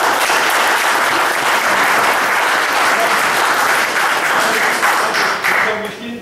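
Sustained audience applause at a debate, dense and even clapping from a crowd throughout, tapering slightly near the end.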